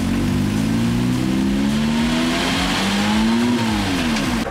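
A Porsche 911 revs hard at a racetrack, its engine note climbing and falling in a loud, continuous mid-pitched howl with steady gear-like pitch shifts and no talking over it.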